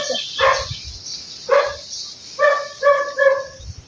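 A dog barks in an abandoned, decaying ghost town: a single bark, another a second later, then a quick run of three barks, fairly close and loud, with no one talking.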